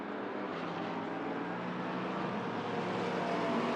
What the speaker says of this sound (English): So it's the GT3 car of I think Neil